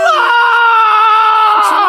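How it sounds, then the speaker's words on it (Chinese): A scream rises at dawn beside a shrimp and crayfish pond farm, a loud sustained shrill wail lasting about two seconds with a strained, harmonic voice throughout and nothing else around it. "工人的惨叫声划破了清晨的宁静"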